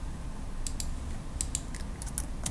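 Keystrokes on a computer keyboard while someone runs a regression exercise, heard as a few irregular bursts of quick clicks over steady low room hum, close and moderately loud with no talking.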